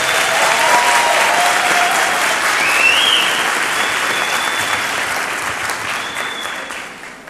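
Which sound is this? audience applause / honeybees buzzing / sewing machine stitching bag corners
audience applause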